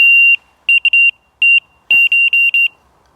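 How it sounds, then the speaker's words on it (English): Loud, high-pitched electronic beeps from a laser level receiver in irregular bursts, some long and some short rapid chirps, with a brief clunk in between. "this has got either a sounder, if you really like that annoying beep"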